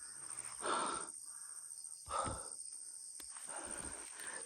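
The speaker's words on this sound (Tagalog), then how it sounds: "At yung mga uwak," Crows cawing outdoors near a hut, a few harsh calls spaced apart at moderate distance, with quiet breathy background between them.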